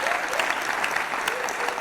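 An audience in a parliament chamber breaks into dense, steady clapping for a couple of seconds, with a voice faintly audible beneath it.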